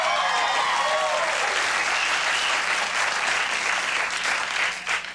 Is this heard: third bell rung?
no